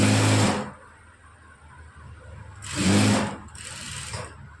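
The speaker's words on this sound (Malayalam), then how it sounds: "മടക്കിയതിന് ശേഷം ഇതുപോലെ സ്റ്റിച്ച് ചെയ്തെടുക്കുക." A sewing machine stitches a folded blouse patch piece in two loud bursts, one at the start and another near the end, each whirring run stopping and then briefly resuming, with quiet pauses between and no talk.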